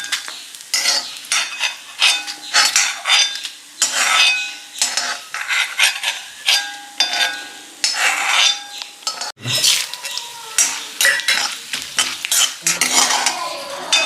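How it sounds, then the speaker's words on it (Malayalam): Coriander and chilli roasting in a pan, with steady close scraping and stirring clatter, a soft sizzle underneath and a sharp knock near the middle; no talking. "മല്ലി മുളകൊക്കെ മൂപ്പിക്കണം."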